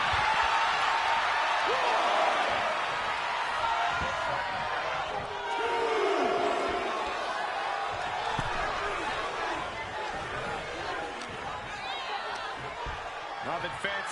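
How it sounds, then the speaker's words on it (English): A live wrestling crowd roars and cheers continuously throughout, a dense wall of voices with slaps and thuds from the ring, while a commentator talks over it. "And a live crowd doesn't get any hotter than this."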